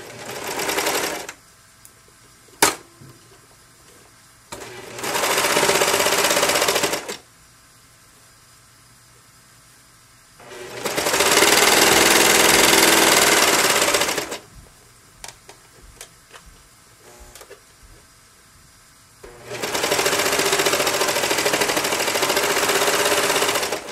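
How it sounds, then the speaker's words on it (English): Serger overlocking the folded fabric strap of a scrub cap, running in three loud sustained bursts of whirring stitching separated by quieter gaps with small clicks and handling noises. "start sewing the strap together on the serger"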